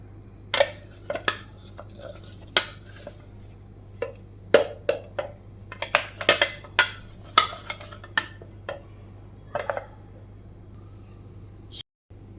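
Jaggery powder is stirred into gram flour in a bowl, heard as a close series of irregular scraping taps and clinks of a spoon against the bowl, with quiet gaps between strokes.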